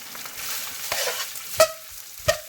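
Day-old cooked rice is tossed into hot oil for Filipino fried rice, giving a crackling sizzle with stirring and two sharp metallic clinks of a utensil against the pan.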